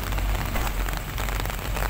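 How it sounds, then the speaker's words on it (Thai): Heavy rain pours down in a sudden downpour, a dense loud patter and hiss of drops striking surfaces nearby, continuous with no voices. "ฝนตกแล้วครับฝนตกฝนตกครับ"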